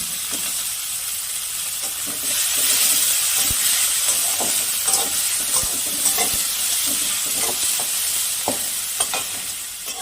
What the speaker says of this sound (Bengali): আমার পেঁয়াজটা হালকা লাল করে ভাজা হয়ে গেছে